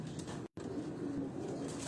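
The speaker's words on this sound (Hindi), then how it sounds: "ये देखें कबूतर" Racing pigeons cooing nearby in a low, continuous murmur of overlapping coos with steady background hum and a short dropout near the start.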